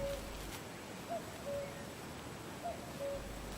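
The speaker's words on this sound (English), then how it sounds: "And there's a cuckoo." A common cuckoo calls by the River Severn, its two-note cu-coo repeated several times at an even pace, fairly clear against quiet outdoor background.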